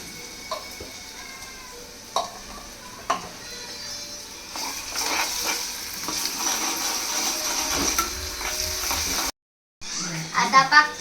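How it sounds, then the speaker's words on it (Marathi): Chopped onion frying in a pan at home, soft sizzle with stirring scrapes and clinks of a utensil, under a child's chatter, a brief silence near the end, then louder clatter. "आता आपला कांदा ब्राऊन होईपर्यंत शिजूया"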